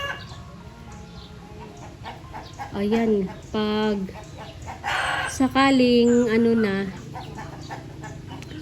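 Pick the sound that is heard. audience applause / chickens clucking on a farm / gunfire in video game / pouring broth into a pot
chickens clucking on a farm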